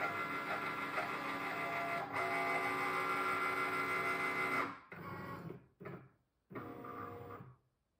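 A Cricut cutting machine scans a printed label sheet with a steady mechanical whir and hum, pausing briefly, then running in short bursts before stopping.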